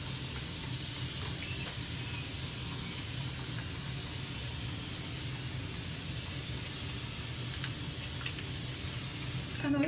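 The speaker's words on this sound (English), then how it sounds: "First, I spray my hair with water." Soft, continuous hiss of water being sprayed from a spray bottle onto dry natural hair, steady and fairly faint, close by with a quiet indoor background and no talking.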